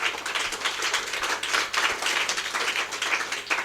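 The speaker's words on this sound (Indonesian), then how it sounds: "Tepuk tangan untuk Kang Amin, tepuk tangan." Applause from an audience at a speech contest, dense sustained clapping lasting a few seconds with no break.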